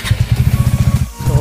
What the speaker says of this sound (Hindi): तो बाइक का साउंड कुछ ऐसा हो गया है